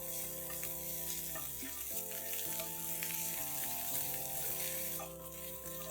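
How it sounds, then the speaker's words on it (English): Garlic paste and ginger paste frying in hot oil for Gobi 65, a steady sizzling hiss running the whole time beneath louder background music. "I'm going to add in 1 tablespoon of garlic paste as well as 1 tablespoon of ginger paste. Cook this for a few seconds."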